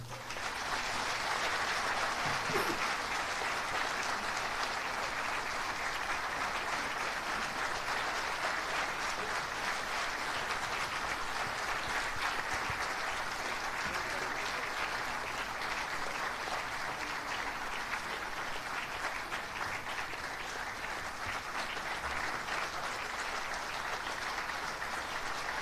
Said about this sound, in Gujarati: એ મંચ સુધી પહોંચે ત્યાં સુધી તાળીઓ.